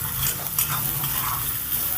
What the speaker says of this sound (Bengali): ভালো করে নেড়ে চেড়ে পেঁয়াজটাকে ভেজে নেব